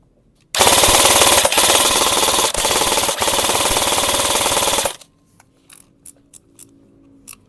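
A budget airsoft rifle fires on full auto in one sustained, loud, rapid buzzing burst of about four seconds. A few short mechanical clicks and rattles follow once it stops, and there is no talking.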